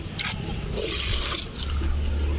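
Anaerobic compost tea, brewed from kitchen waste, is poured onto tomato plants in a garden, giving a close, steady splashing rush of liquid.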